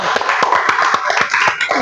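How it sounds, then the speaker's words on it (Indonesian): Students in a fifth-grade classroom clap for a classmate, a short burst of loud, close, uneven handclaps lasting under two seconds. "beri tepuk tangan kepada temanmu"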